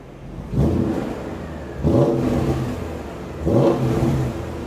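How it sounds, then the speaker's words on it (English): A warm BMW M5 E39 engine revs three times in short, moderate blips, each rise followed by a drop back to a steady idle, recorded close with no talking. "I will give it a little rev, nothing too heavy."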